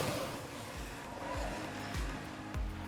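A vehicle in State of Decay 2 swings through a reverse 180 turn with its doors open, its engine droning under repeated thumps and tire noise over a few seconds.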